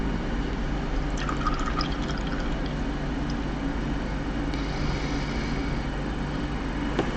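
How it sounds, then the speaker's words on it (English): Water is stirred into thick miniature paint, producing faint, soft wet dabbing and swishing sounds in short bursts over a low steady background hum. "mixing water in with this as it's another thick paint"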